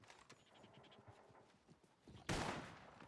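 A single loud gunshot goes off in a Western roleplay video game after some faint scuffling and clattering, its sharp crack ending in a short decaying tail.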